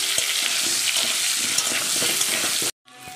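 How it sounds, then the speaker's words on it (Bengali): Potatoes with a little turmeric and salt sizzle and crackle steadily in hot oil in a pan, a close, dense frying hiss with some stirring, cutting off abruptly near the end. "আলুগুলো আমার ভাজা হয়ে গেছে"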